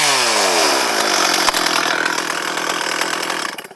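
A chainsaw cutting into wood, loud and close, with the engine revving up and then holding a steady, rough buzz as the chain bites through, no voices.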